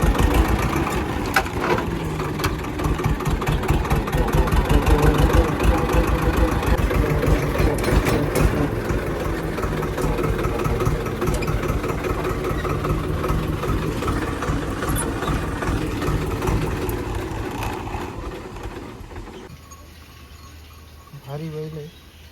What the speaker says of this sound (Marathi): काकांनी अचानक ट्रॅक्टर काढलाय.